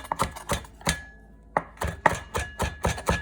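A knife rough chops peeled carrots on a cutting board in a run of sharp, close knocks, about a dozen uneven strikes with one short pause partway through.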